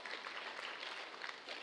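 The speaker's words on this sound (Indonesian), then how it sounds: "tepuk tangan buat Tuhan" A church congregation claps together during a sermon, a steady, dense patter of many hands held at an even level throughout, quite faint and distant, with no voices over it.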